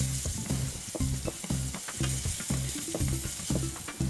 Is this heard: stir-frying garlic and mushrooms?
yes